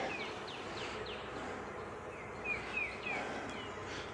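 Honeybees buzz around frames pulled from a recently split hive, a soft steady hum with several sharp chirping or piping notes rising above it, close and without talk.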